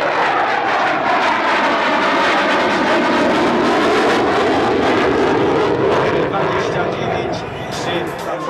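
A Mirage 2000 jet fighter roars overhead during a flying display, a loud sustained rushing engine sound with shifting pitch that slowly fades at the end.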